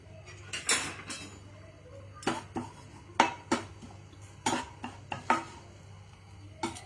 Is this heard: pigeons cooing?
no